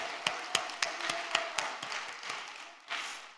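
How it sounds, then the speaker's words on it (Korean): Church congregation clapping in unison during a Korean worship service, crisp, evenly spaced claps about four per second that gradually soften, ending in a brief burst of scattered applause. "이미 주신 것을 믿고 박수로 하나님께 영광 돌립시다."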